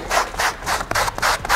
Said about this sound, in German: machen wir jetzt erstmal mit dem Schleifpapier ein bisschen so eine Optik.